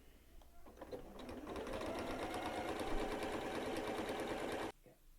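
Sewing machine stitching steadily around a fabric bag at a 3/8 inch seam allowance, a loud continuous run of rapid needle strokes lasting several seconds before stopping abruptly, with a quieter start.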